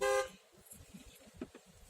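A car horn gives one short, loud honk at the very start, then gives way to faint street ambience and quiet background murmur.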